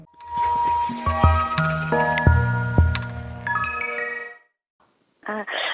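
A telephone rings with a melodic electronic ringtone for an incoming call about a Korean property sale. The chiming tones repeat for about four seconds, then stop, and a brief voice follows.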